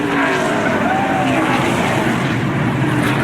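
NASCAR race car at the 2002 Virginia 500 in Martinsburg: a loud, steady engine roar under crowd and track noise, with no clear pass-by peak, continuous throughout.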